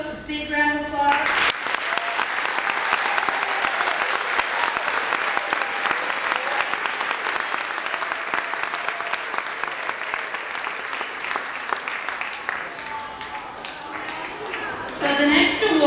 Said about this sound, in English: can we give these folks a big round of applause?